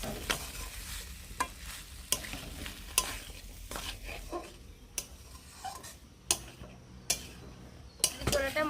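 Boiled chickpeas are stirred and fried with spice paste in a pan, a low sizzle beneath regular sharp clicks of a spatula striking the pan, close and moderately quiet with no voices.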